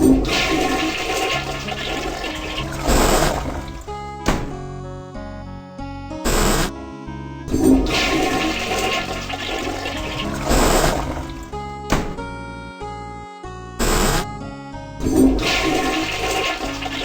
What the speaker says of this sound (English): Go to the restroom and flush 3 times.